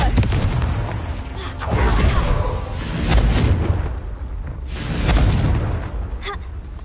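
Repeated heavy fire-blast explosions from the Confringo spell in Hogwarts Legacy, striking rocks, with three or four loud booming bursts and rumbling decay swelling and fading over several seconds.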